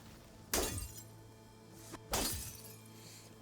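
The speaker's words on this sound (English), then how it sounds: "I like how it makes a glass breaking sound effect" Two glass-shattering crashes from the video game Horizon Forbidden West, each a sudden bright burst that decays over about a second, evenly spaced and loud against a quiet backdrop.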